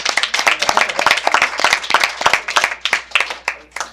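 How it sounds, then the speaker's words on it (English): Several people at a school board meeting clap in a brisk, uneven burst of distinct hand claps, close and fairly loud, lasting about four seconds before thinning out. "I think we should clap."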